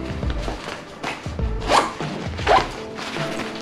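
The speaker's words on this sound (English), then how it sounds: "zipper" A packing bag's compression zipper is pulled in several short, raspy strokes, with a couple of sharper zips standing out, close up and with no talking.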